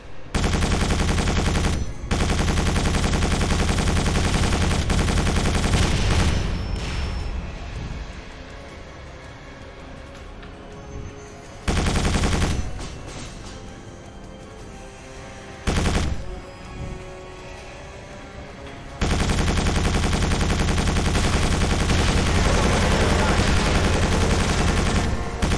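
Loud, rapid bursts of automatic gunfire from the Quake 4 PC game are fired at Strogg enemies and a vehicle, broken by short lulls, then resume in long, dense volleys. No one speaks.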